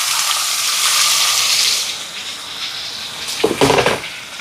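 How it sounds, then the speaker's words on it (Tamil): Onions sizzle and crackle in a hot pan with spices, a steady close frying hiss that fades somewhat, followed by a short burst of stirring or scraping. "வெங்காயம் எல்லாம் வதங்குது."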